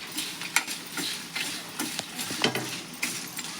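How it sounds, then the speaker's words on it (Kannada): Masala spices frying in oil for a North Karnataka spicy masala, with soft continuous sizzling and scattered stirring scrapes and clicks of a spoon in the pan, close and fairly quiet. "ಎಣ್ಣೆ ಒಳಗೆ ಹಾಕಿ ಈಕಿ ಮಗಳು ನೋಡ್ರಿ, ಮಗಳು ಹುರಿಯಾಕತ್ತಾಳ"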